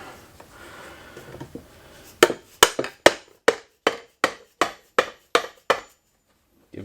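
A hammer strikes an engine case, a Derbi Start V being split apart, in about ten sharp, evenly spaced whacks up close, with shuffling handling noise before the blows begin.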